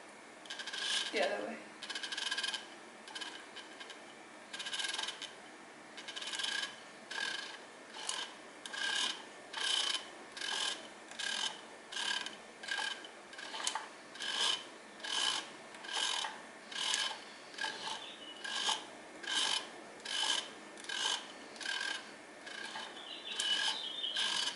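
A vintage Kenmore sewing machine turned by hand while being oiled gives a regular, repeating mechanical whir and clatter, one rhythmic cycle after another, close by, with brief speech early on.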